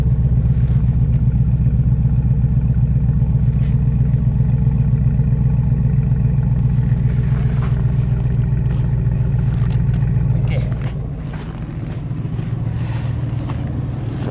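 Car engine running after a start in extreme cold in Saskatoon, a loud steady close idle with a low throbbing rumble and light clatter that drops slightly in level toward the end.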